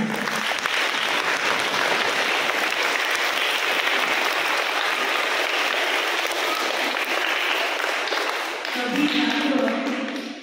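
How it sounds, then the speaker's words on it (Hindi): A school audience claps loudly and steadily for contestants at a Hindi recitation event, dense sustained applause filling the whole stretch with a brief dip near the end. "उनके लिए जोरदार तालियां"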